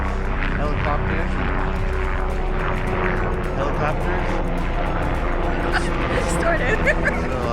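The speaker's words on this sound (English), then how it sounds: "Helicopters." A loud, continuous helicopter rotor and engine drone fills the air overhead at Liberty State Park near New York City, with a babble of people talking underneath.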